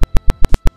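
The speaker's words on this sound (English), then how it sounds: "and this speaker or buzzer will turn on, as you see." An Arduino-based three-phase fault detector's buzzer gives seven short, evenly spaced beeps, loud and close, with nothing else audible between them.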